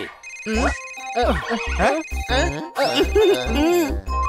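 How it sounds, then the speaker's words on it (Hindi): A melodic phone ringtone plays in repeated tuneful bursts, bright and close, with a thumping beat under each phrase. "किटी का फोन आया है"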